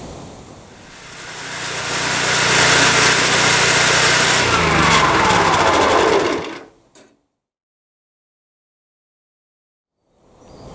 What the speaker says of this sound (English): This has been the HYCH7070E-2 wood chipper.